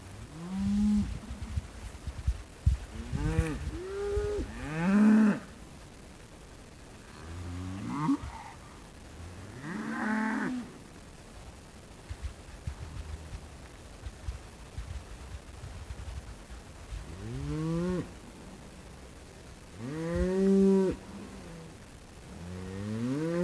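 Cattle, cows and bull calves, moo repeatedly over a long stretch, several drawn-out bellowing calls spaced irregularly, some loud and close, others softer, with low shuffling and ambient farmyard noise between them.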